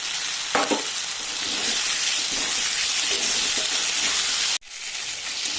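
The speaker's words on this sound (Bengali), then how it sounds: "আমার মশলাটা ভালো করে কষানো হয়ে গেছে" Spice paste and tomato frying in a pan, a steady loud sizzle running throughout with a brief stir scrape and a sudden drop near the end.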